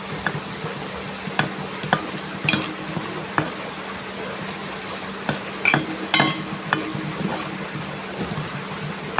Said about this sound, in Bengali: মেথি এবং কালো জিরা দুইটাই দিলাম।